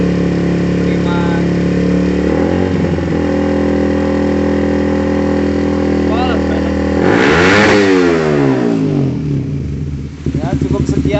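Suzuki GSX-R150 motorcycle fitted with a Lone Rider CMSS 32 cm aftermarket exhaust, idling close and loud with a steady harmonic drone, then a sharp rev burst partway through before settling back.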